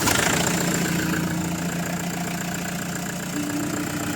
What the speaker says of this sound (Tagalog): ipa-start ko naman itong makina